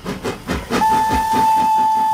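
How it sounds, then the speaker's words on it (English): A Thomas train whistle blows a single long, steady, loud tone, starting after a short chuffing lead-in and holding to the end without any voices. "Thomas train."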